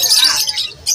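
At a Sunday pet market, a caged bird gives brief shrill squawks and chirps close by, with crowd babble in the background.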